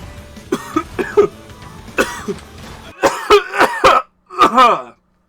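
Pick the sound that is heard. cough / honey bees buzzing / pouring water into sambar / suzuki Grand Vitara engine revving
cough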